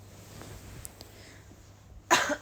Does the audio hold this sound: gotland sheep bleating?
no